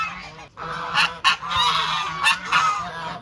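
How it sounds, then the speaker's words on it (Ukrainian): Geese honk loudly and close by in Romania in a rapid series of harsh calls, several birds overlapping. "Гусі, хто це? Хто ви?"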